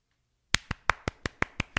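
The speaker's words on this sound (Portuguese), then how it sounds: "Eu aplaudi todos vocês." A pastor claps his hands during a church sermon: eight sharp, close claps at a steady, slightly uneven pace, following a moment of near silence.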